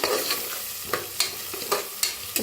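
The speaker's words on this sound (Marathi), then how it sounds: "छान असं भाजून घेऊया" A spatula scrapes and stirs soya pulao ingredients with peanuts and potato roasting in a pan, giving sharp knocks roughly every half second over a continuous close sizzle, with no voices.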